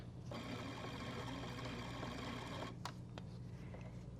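A sewing machine stitches a continuous lap placket, a quiet, even mechanical whir running for several seconds before stopping, followed by a few soft clicks and handling sounds.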